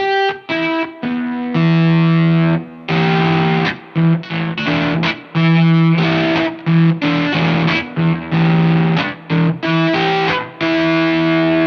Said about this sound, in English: Even though it's real fuzzy, it's real gnarly, you can still hear that note separation